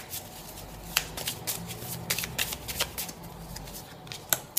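Playing cards shuffled and drawn for a tarot-style reading, a run of crisp riffling flicks and snaps in irregular bursts, close and moderately quiet, with no talking over them.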